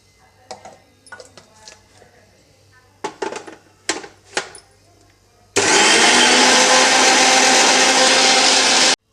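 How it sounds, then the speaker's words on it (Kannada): A mixer grinder grinds green chili for spiced buttermilk, first with a few short clacks and handling noises, then a loud, steady motor whir that roars to the end, close by. "ಇವಾಗ ಇದನ್ನು ನಾನು ಸಣ್ಣಗೆ ಗ್ರೈಂಡ್ ಮಾಡ್ಕೊಳ್ತೀನಿ"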